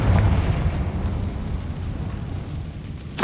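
A Confringo spell explodes in the game Hogwarts Legacy, a deep rumbling blast that decays across the clip before a sharper burst lands right at the end.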